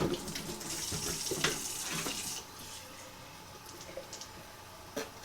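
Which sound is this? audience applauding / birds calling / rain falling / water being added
water being added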